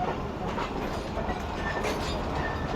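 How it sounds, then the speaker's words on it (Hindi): The Marvi Passenger on the Thar Express route rolls along the rails with a steady, loud rumble and a rhythmic clickety-clack of wheels over the track joints, heard up close. "तो ये थराय सर की रानी ट्रेन है भाई"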